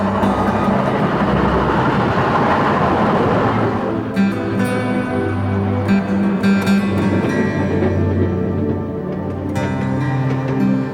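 A Southern Pacific passenger train runs along the coastline route, rolling loud and steady with a deep low rumble and wheel noise that shifts as the cars pass, with no voices.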